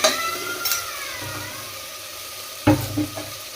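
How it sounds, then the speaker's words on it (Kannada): Ginger garlic paste goes into a pan of hot oil, with a soft steady sizzle, a sharp burst of frying partway through, and a few light scrapes, nearby and without speech. "ಫ್ರೈ ಆದಮೇಲೆ ಶುಂಠಿ ಬೆಳ್ಳುಳ್ಳಿ ಪೇಸ್ಟ್ 1 ಸ್ಪೂನ್ ಶುಂಠಿ ಬೆಳ್ಳುಳ್ಳಿ ಪೇಸ್ಟ್ ಹಾಕಿದ್ದೀನಿ"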